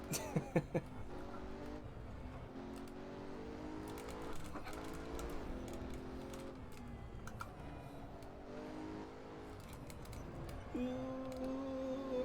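Race car engines in the Assetto Corsa racing game on the VIR circuit, revving and shifting through gears in rising whines, with keyboard tapping at the start, fairly quiet overall.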